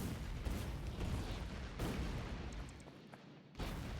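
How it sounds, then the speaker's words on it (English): Grenades thrown at trees in the Factorio video game explode in repeated heavy booms, several dull blasts in a row with rumbling in between, fairly quiet overall. "throw some grenades at these trees"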